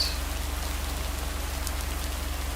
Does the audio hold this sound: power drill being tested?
no